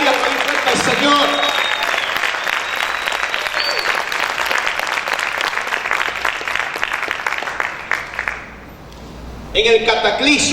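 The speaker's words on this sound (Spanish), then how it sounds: "¿Cuántos pueden estar y aplaudir al Señor?" A church congregation bursts into sustained, loud applause that fills the room, with voices mixed in, fading briefly before a final swell.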